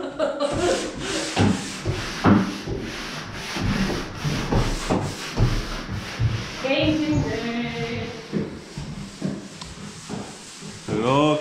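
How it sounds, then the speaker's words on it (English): Sanding during a home renovation produces repeated rough scraping and rubbing strokes, close and fairly loud, with people talking intermittently over it. "I hate sanding."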